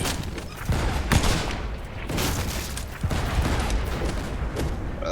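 Rapid video game gunfire crackles in dense, overlapping bursts with booming impacts over a continuous loud battle din, with no clear pauses.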